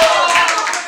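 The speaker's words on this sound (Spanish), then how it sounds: "El aplauso para él." Party guests at a Halloween costume party applauding someone dressed as a zombie, a brief close burst of clapping.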